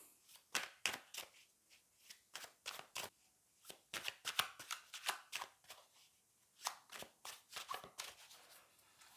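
Tarot cards riffled and shuffled by hand close up, a quick run of crisp flicking bursts in short groups with brief pauses between them, fairly quiet and with no talking.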